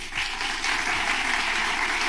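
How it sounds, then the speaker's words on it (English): An audience claps steadily, a dense wash of applause holding at an even level for a couple of seconds. "People are actually applauding."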